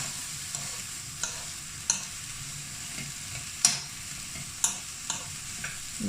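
Chicken jalfrezi curry simmering and reducing in a pan, with a steady soft sizzle and bubbling, punctuated by several sharp clicks and taps of stirring at irregular intervals, close and moderately quiet.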